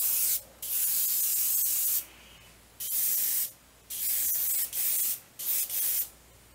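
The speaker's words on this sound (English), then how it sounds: "I'll just spray this way and see if we can get some shading going on" An aerosol can sprays pink paint onto a small figure in a series of short, close hissing bursts, each lasting about a second and separated by brief silences.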